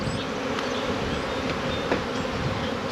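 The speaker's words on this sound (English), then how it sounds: "I take this bottom board and get rid of these bees in there" Honey bees buzz around beehive boxes during a cold spring hive split, a dense, steady close-up drone of many wings with occasional individual bees passing near.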